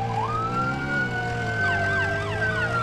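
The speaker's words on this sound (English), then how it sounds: "Oh, he has lights and sirens on." A fire truck siren in the Roblox game Maple County wails continuously, sweeping up and down at close range.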